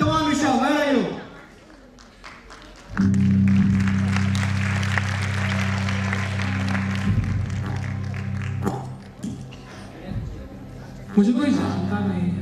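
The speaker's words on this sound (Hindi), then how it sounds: "please put your hands together for Rishabh Kothari and general" An audience at a comedy show claps and applauds for a comedian, a steady mid-level ovation lasting several seconds, framed by someone talking on a microphone before and after.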